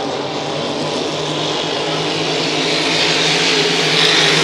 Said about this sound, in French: Nous sommes à 10 secondes du départ. Et on ouvre les gaz.